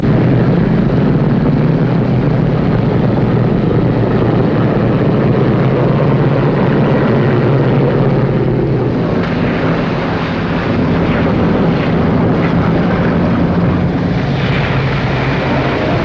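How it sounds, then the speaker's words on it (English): A propeller airplane on an airfield during the Berlin Airlift era rumbles loud and continuous as it taxis toward the runway, its dense engine drone steady throughout with a slight shift in tone about halfway through. "Make a right turn and enter runway."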